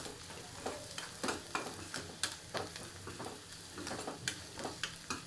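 Fried onion with turmeric stirred in a pan: a soft, steady sizzle under repeated light scrapes and taps of a spoon against the pan, fairly quiet and without speech.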